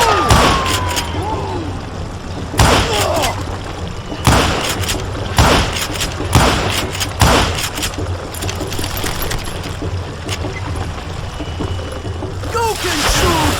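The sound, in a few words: gunfire and dynamite explosions in video game Call of Juarez Gunslinger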